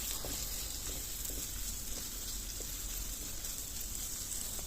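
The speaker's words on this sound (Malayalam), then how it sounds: "അതിലേക്ക് നമുക്ക് അരിഞ്ഞു വച്ചിരിക്കുന്ന ചെറിയ സവാള ഒരെണ്ണം അതിട്ടിട്ട് അതൊന്ന് വഴറ്റിയെടുക്കാം" Chopped small onion sautéing in a hot pan for a Kerala-style green peas curry, giving a steady, even sizzle with faint scattered crackles and no voices.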